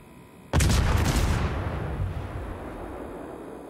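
A destroyer's guns fire in a naval combat video game: one sudden, heavy boom from the Japanese destroyer Yugumo, then a rolling rumble that slowly fades over several seconds, with no voices.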